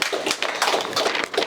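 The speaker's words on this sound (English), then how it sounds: "So I think we should all give Doug a round of applause on behalf of the Cdah community." A community group's annual general meeting audience claps for an honoree, a dense, close burst of many hands clapping steadily for about a second and a half with no voices over it.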